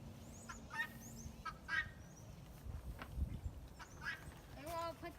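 Guinea fowl call outdoors with repeated harsh, rhythmic chattering cries at mid distance over rustling background noise.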